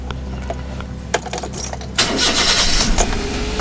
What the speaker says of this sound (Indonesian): Saya coba starter dulu ya.